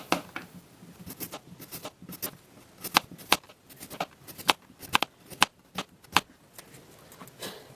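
A knife chopping washed, unpeeled produce into pieces on a board, giving a rapid, irregular series of crisp close taps and thuds, some sharper than others, with no talk.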